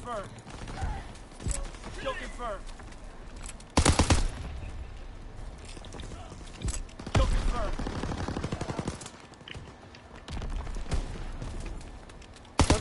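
Shotgun fire in a video game: several loud, sharp blasts spaced several seconds apart, with bursts of rapid gunfire and clattering mechanisms between them, under excited voices talking and laughing.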